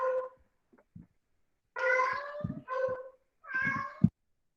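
A pet kitten meows several times in a row, drawn-out harmonic cries with short pauses between, close to the microphone with no talking over it.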